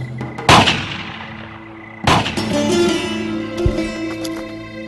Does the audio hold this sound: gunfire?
yes